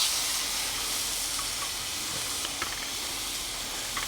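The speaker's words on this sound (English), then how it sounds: "time to get these steaks on. We're gonna do quick sears on each side." Picanha steaks sear on a Blackstone griddle, giving a steady, loud, broadband sizzle and hiss that holds even throughout, with a few faint pops and crackles breaking through.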